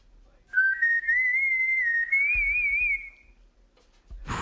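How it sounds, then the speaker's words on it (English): Proto Man's whistle theme from the Mega Man games plays as a single clear, wavering melodic whistle lasting about three seconds, close and alone, ending with a brief thump. "that's Proto Man's whistle"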